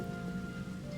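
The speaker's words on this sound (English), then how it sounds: "It is a ugly rainy day. It has been raining constantly." On a gloomy day of constant rain, a quiet, even patter of drops falls steadily on the surfaces nearby.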